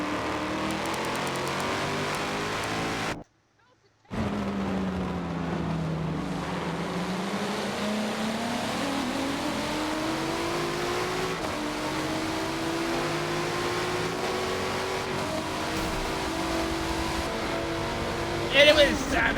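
Onboard engine of the AWR Nismo GT race car in a Daytona 24 racing game lobby, a steady loud drone with rising and falling pitch through gears, briefly cut out near the start, then sustained to the end.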